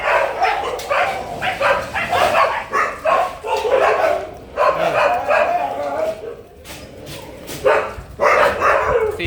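Several puppies yap and bark in quick, overlapping bursts nearby, with people talking over them throughout.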